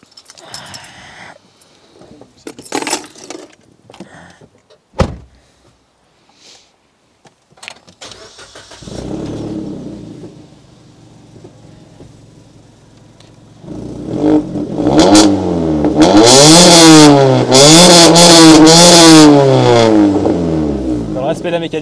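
Suzuki Swift Sport with an Italian exhaust, first some scattered clicks and thumps, then the engine cranks and starts, idles, and is revved hard in repeated rising and falling sweeps, loud and close, with people talking over it.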